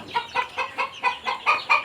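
Fayoumi and Tiger Sonali hens on a farm give a quick run of about eight rhythmic clucks, close and clear with no voices.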